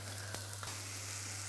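Steak frying in butter in a pan, a steady broadband sizzle with a low hum underneath and a couple of brief clicks, close and fairly quiet with no talking.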